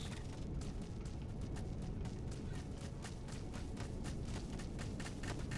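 Shooting in Empyrion Reforged Eden, a steady stream of evenly spaced rapid shots over a dense low rumble, continuous and moderately distant.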